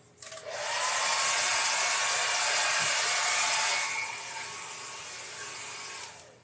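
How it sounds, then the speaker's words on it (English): A dryer runs loud and steady during painting, a broad whoosh of blown air that kicks on, holds for several seconds, then drops to a softer setting before shutting off. "All right, let's run the dryer."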